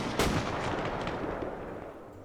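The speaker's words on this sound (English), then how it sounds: "He shot me from that window." Gunfire in a Rhodesian campaign military video game: one sharp loud report near the start, then a long rumbling echo that slowly fades, with a heavy artillery-like boom quality and no talking.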